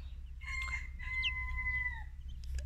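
Chickens and young roosters kept as growing chicks, giving several clear clucks and drawn-out chirping calls in a short, close sequence over a steady low background hum.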